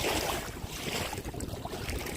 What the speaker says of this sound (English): Waves ain't too bad.